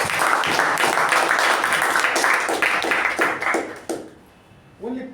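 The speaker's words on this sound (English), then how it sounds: "Give him a special round of applause." Meeting audience gives a speaker a round of applause, a burst of rhythmic clapping from a modest group that fades out after about four seconds, followed by a quiet pause and then a voice beginning to speak.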